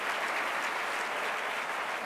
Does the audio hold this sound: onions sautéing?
no